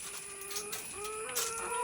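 Laying hens in wire cages on a poultry farm cluck and murmur continuously, several birds close by with overlapping calls against a steady background hum.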